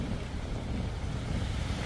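Strong wind blows by the sea at a beach campsite in Calatagan, Batangas, a constant loud rumbling roar buffeting the microphone with no voices.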